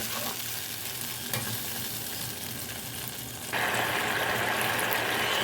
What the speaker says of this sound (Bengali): এখন আমি এটাকে খুব ভালো করে একটু কষিয়ে নেব যতক্ষণ না এটা ভালো করে কষে তেল ছেড়ে আসবে